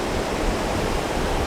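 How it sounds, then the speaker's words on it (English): Ocean waves wash steadily onto a beach in front of a Koh Kood island resort, a dense, close, continuous roar of surf with no pauses or voices. "The sound of the ocean is really amazing here."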